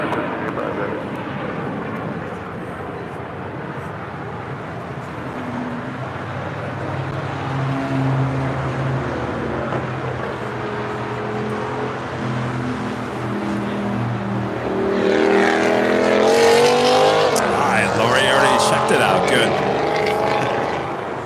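An ANA Boeing Dreamliner jet on final approach to touch down at LAX, arriving from Tokyo Haneda; a steady airliner roar builds louder toward the end as the plane draws near, with voices talking over it throughout.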